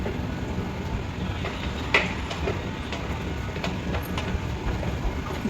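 A Doha Metro train at a station, heard as a steady rumbling roll with faint rail clatter and a few brief squeaks, fairly close and continuous.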